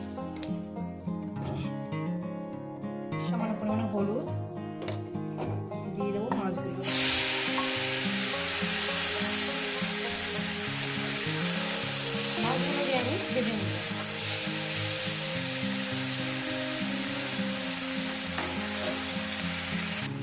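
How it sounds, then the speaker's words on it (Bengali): Dried fish fries in hot oil in a wok by a riverside, a loud, dense sizzle that surges sharply after a quieter opening with some clatter, then holds steady with occasional spatters. "মাছগুলোকে আমি সুন্দর করে ভেজে নিয়েছি"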